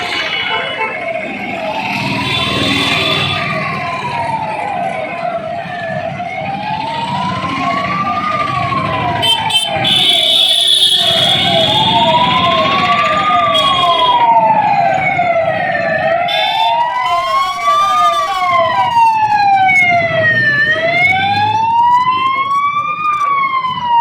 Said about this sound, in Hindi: प्रातः 11 बजे से 2 मिनट के लिए सायरन बजाए गए और आमजन को कोरोना संकट के प्रति जागरूक किया गया